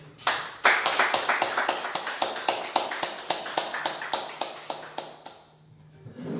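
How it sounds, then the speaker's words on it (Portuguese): A church congregation claps in unison at a steady, quick beat, with crisp repeated claps that fade out near the end. "Vamos dar uma salva de palmas para Ele?"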